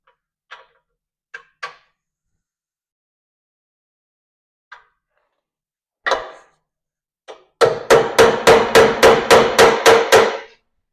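Hammer tapping an oxygen sensor bung into a stainless steel exhaust pipe: a few scattered light taps, then a rapid run of about a dozen sharp, close metallic strikes.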